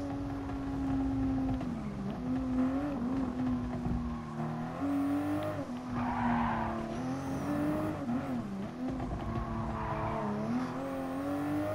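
A race car engine in Gran Turismo Sport hums and revs steadily, pitch rising and dipping with gear changes, with occasional tire squeal, continuous and without talk.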